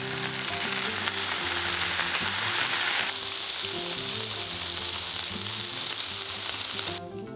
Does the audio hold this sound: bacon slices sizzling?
yes